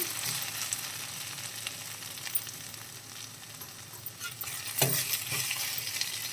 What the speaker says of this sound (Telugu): ఒక ఫిఫ్టీన్ మినిట్స్ మగ్గిందండి చూసేసుకుందాం మధ్య మధ్యలో కలుపుతూ ఉన్నాము